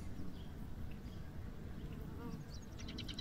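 A honeybee swarm cluster gives a dense, continuous low buzzing close up. The hum stays steady throughout, with brief higher wing whines near the end.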